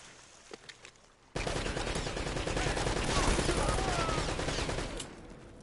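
Sustained, dense gunfire erupts suddenly in the Uncharted: Drake's Fortune video game, a loud continuous barrage of rapid shots that persists for several seconds before easing slightly near the end.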